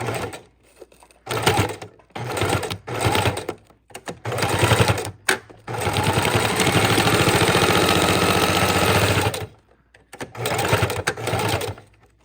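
A sewing machine stitches slowly through miniature junk journal pages in short, separated bursts of motor whir, then one longer continuous run, close and clear with pauses between.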